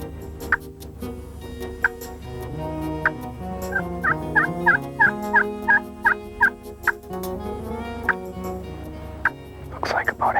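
Young wild turkey jakes gobbling in a group, with a run of quick, sharp, repeated calls bunched in the middle and scattered single gobbles before and after, moderately near, while a person talks quietly.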